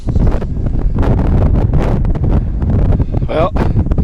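Strong wind buffets the microphone in continuous loud gusts on a hike up prairie coulees, a rough low roar with brief rustling, and no voice is heard.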